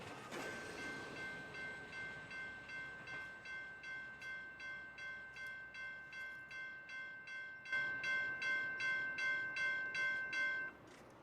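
A CSX special train for the Kentucky Derby passes on the Old Road Subdivision, a long horn blast sounding over rhythmic clickety-clack of wheels on rail joints, growing louder partway through, heard from trackside without voices.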